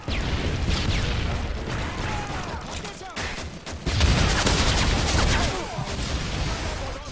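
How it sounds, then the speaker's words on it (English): Dense video game combat with grenade launcher explosions and gunfire, a dense, loud, continuous barrage of blasts and shots with brief lulls, no clear speech over it. "a fucking grenade launcher"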